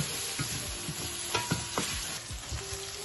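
Ginger and garlic fry for lamb karahi, giving a soft, steady sizzle in a pan broken by several scraping stirs of the spoon; no voices.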